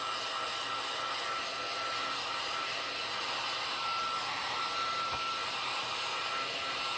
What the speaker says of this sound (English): I'm going to do a quick blast of the heat tool